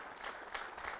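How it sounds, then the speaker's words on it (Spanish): Brief burst of congregation applause at a church teaching session, soft and fairly distant, a blur of claps lasting only a moment. "aplaudimos para recibir la palabra"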